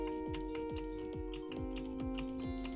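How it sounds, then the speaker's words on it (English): Computer keys mashed rapidly during a Gas Station Simulator stream, producing a steady run of sharp, close clicks and clacks with a constant hum underneath and no talking. "I'm just mashing keys."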